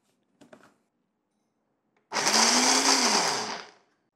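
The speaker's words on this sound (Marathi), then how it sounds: "आपण ह्याला मिक्सरमध्ये जाडसर वाटून घेऊ." A kitchen mixer grinder coarsely grinds peanuts, green chillies, coriander and a little water for village-style methi-peanut bhaji: a few faint clicks, then a loud, steady whirring burst of about a second and a half that winds down.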